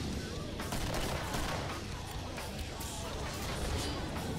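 Rapid, sustained gunfire in the horror shooter Killing Floor, a dense rattle of shots blending into constant noisy battle clamor without pause.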